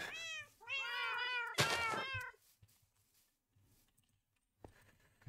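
Several video game cat meows in quick succession, clear and close, with a longer drawn-out yowl, then a brief pause and a final short sound.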